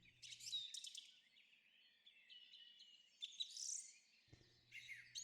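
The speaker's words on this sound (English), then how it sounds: "The audio used in this podcast was Song Thrush Nature Field Recording Garden Atmo" Bright, varied bird song phrases repeat in short bursts with pauses, fairly close, over a quiet outdoor background with faint low rumble at start and end.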